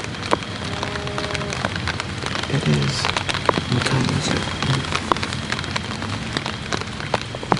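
Steady rain falls on a cold-front evening, a dense continuous patter with occasional louder drops, while a person speaks briefly over it.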